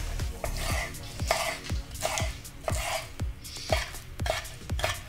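Ninja Foodi NeverDull chef knife chopping through food on a cutting board, a steady series of about ten crisp, close chops at an even rhythm with no talking.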